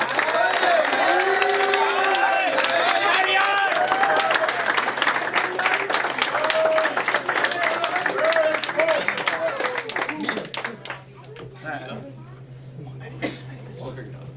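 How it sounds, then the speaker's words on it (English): Loud, sustained applause from a sizable crowd at an athletic achievement ceremony, with scattered cheers, a voice talking over it, the clapping thinning out toward the end. "let's give him a round of applause"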